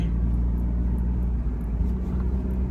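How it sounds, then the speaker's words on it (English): Steady low road rumble and engine drone fill the interior of a moving car, a constant close hum with faint higher hiss and no talking. "the car is a little bit of a noisy place"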